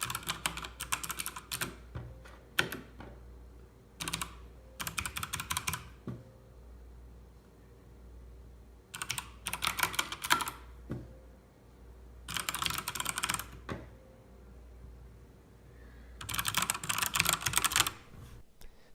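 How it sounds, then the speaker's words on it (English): Typing on a Viper Gaming V765 mechanical RGB gaming keyboard with white switches: close, crisp clacking key presses in irregular bursts separated by short pauses, with no talking. "Noise test, I'm going to press a couple keys here so you can get a feel on the noise"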